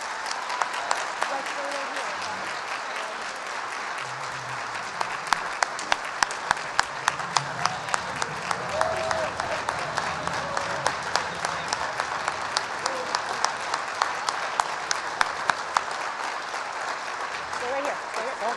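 An audience at a school athletics awards and hall of fame ceremony gives a long, full round of applause, loud and continuous, with a few sharper individual claps standing out near the front and a low murmur of voices underneath.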